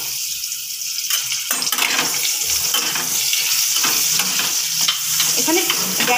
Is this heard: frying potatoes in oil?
yes